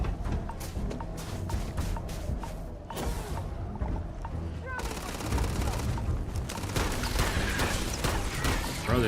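Video game gunfire crackles in dense, continuous bursts across the whole stretch, loud and busy with clattering mechanical noise mixed in, while a voice talks over part of it.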